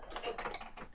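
A sewing machine stitches through paper junk journal pages, giving a quiet, quick mechanical whirring and clicking of needle and feed for about a second, with no talking.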